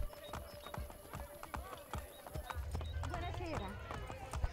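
Horse hooves clop in a steady walking rhythm in Assassin's Creed Brotherhood, with scattered game sound effects and a faint whinny, a high thin tone hanging over the first half.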